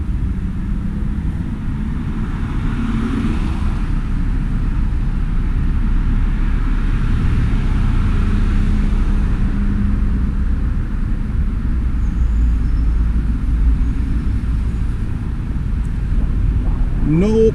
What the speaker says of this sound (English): this is Romford bus stand